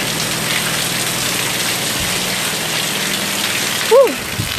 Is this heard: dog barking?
no